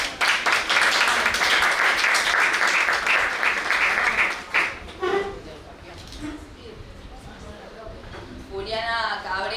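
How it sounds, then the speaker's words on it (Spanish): An audience at a political meeting on Trotskyism and women's and LGBTIQ+ movements breaks into loud, dense applause for about four seconds, which then fades as a voice begins speaking over a quieter room. "Un aplauso."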